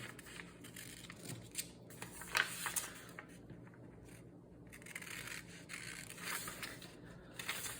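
Scissors snip and scrape steadily through material, cutting around black outlines on a water bottle bag pattern, with a few sharper cuts standing out close by.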